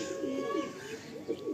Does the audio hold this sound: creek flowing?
no